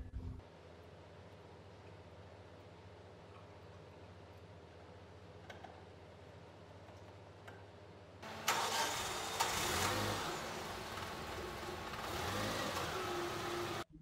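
A car engine in the middle of a radiator chemical flush: a low, quiet hum for about eight seconds, then a much louder, rougher broadband engine roar that runs steadily to the end, with no talking.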